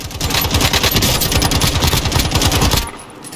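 Rapid automatic gunfire in Call of Duty: Modern Warfare Warzone, a dense burst of shots rattling loudly and continuously for nearly three seconds before cutting off abruptly, with no talk.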